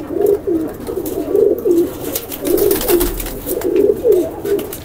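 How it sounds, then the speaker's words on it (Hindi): Dobas pigeons in a highflyer pigeon loft, repeated soft low cooing in rhythmic pairs, close by, with faint rustling and no talk. "ये देखिए दोबास कबूतर, इंडियन है ना ये?"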